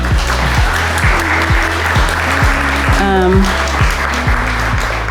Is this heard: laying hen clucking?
no